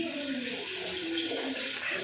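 Water runs steadily as it is drawn for washing, a close, continuous splashing flow with faint voices murmuring underneath.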